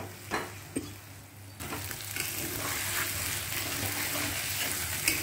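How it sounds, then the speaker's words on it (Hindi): Potato halwa roasted and stirred in a pan: a few scraping strokes at first, then a steady close sizzle sets in and continues with occasional spoon scrapes. "कभी धीमी कभी मध्यम आंच में ऐसे नचाते हुए इसको भूनना है"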